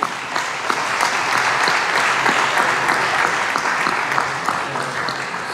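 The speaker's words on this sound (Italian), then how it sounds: "E quindi un bel applauso," Steady, dense applause from a conference audience in Rome fills the room, many hands clapping continuously at an even level with no break.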